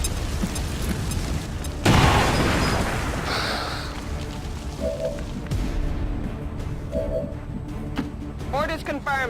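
A frag grenade in XCOM 2 bursts with a sudden loud boom that rumbles and fades over a few seconds, followed by game voices and quieter mechanical sounds.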